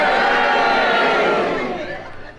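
A studio audience at a radio comedy panel game lets out a loud crowd roar of mixed cheers and boos that swells at once and fades away over a couple of seconds.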